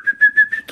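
Person whistling in imitation of a bird, a quick series of four or five clear, bright chirping notes, close and loud, with no talk.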